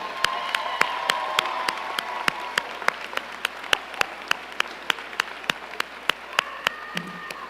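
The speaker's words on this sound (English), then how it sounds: "And one more round of applause for the graduates in this room." A room of graduates and guests applauds at a spring undergraduate commencement ceremony, a dense wash of clapping with a few sharp, louder claps punctuating it steadily throughout, fairly close and sustained.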